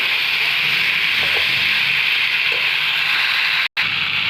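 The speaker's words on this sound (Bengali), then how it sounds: "এবার এটা আমি অনেকক্ষণ নাড়বো, আরও এটা কষতে হবে অনেকক্ষণ।" Jackfruit and potato curry stirred and browned in a pan, giving a steady scraping, sizzling rub that carries evenly throughout with a brief break near the end.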